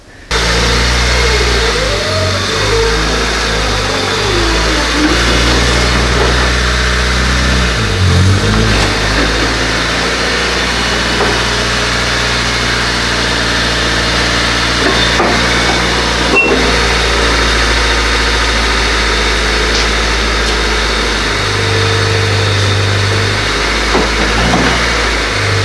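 A 1992-2000 Honda Civic with freshly installed Rev9 coilovers runs close by, its engine humming steadily with a few revs rising and falling over the idle, no talking.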